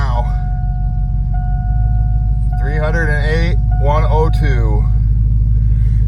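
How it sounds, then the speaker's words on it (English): Steady low rumble of an old pickup truck engine idling and running, close and continuous, with someone talking over it partway through. "But let's fire up the truck."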